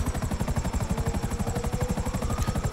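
A Buzzard helicopter flies in GTA 5, its rotor beating in a steady fast rhythmic thump with a constant engine whine layered over it, loud and continuous throughout.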